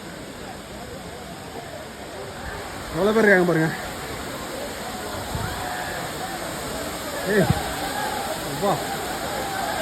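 Aagaya Gangai waterfall in the Kolli Hills, a constant broad rush of falling water close by, with voices talking over it and brief shouts rising above the roar.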